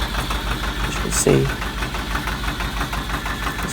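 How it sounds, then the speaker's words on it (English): A narrowboat's diesel engine runs steadily with its alternator and gearbox turning, a loud, even rumbling drone, while someone talks over it. "the engine starts straight off the key"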